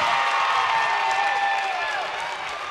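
A packed gym crowd at a girls basketball state tournament game cheers and roars loudly and continuously, with a whistle-like tone sliding through the noise before it eases slightly at the end.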